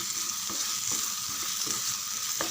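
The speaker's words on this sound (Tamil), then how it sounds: "நல்லா கலந்து விடுங்க." Tomato thokku stirred in a pan, with a soft steady sizzle and the occasional scrape of the spoon, fairly faint and close, with no voices.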